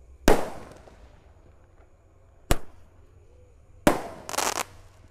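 Roman candle fireworks going off outdoors, three sharp separate bursts spaced a second or two apart, the last one followed by a short hissing tail, loud against a quiet background.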